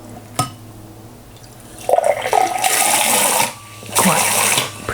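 A Soda King seltzer bottle from 1937, designed by Norman Bel Geddes, dispenses water forcefully in two loud hissing spurts, the second shorter and following a brief pause.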